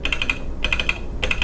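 Three quick bursts of crisp keystrokes on a computer keyboard, each a rapid run of about five clicks, as the word prisma is typed; close and clear with no talk.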